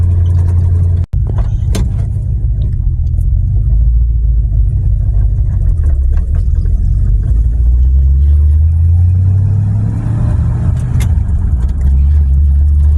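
A farm truck drives steadily around town, its engine a loud, constant low rumble close up, with a sharp click near the start and the drone swelling and easing as it moves along.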